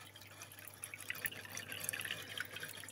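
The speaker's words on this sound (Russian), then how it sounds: "Получается, сейчас вода откачивается." Water being pumped and draining from containers in a home automatic farm for aulophorus, daphnia and tubifex worms, soft trickling and dripping with small splashes, faint and close, with no voices.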